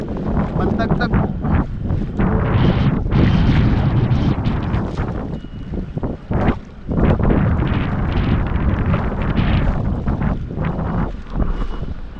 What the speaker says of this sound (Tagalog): Pasensya na po at medyo mahangin.